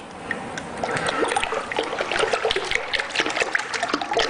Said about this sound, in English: I just kind of stir it enough to give it some turbulence so it sucks air down in it